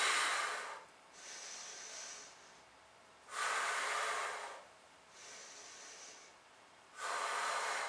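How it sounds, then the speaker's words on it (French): Slow paired breathing during an arm exercise: long, loud, close exhales alternate with softer inhales, each breath lasting about a second or two, with no talk. "vous allez souffler en montant, inspirer en redescendant."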